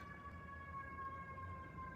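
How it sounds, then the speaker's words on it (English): A faint, distant ambulance siren sounds in a thin, steady, nasal tone like a squished duck, holding one pitch over low background rumble, with no voices. "What kind of ambulance was that?"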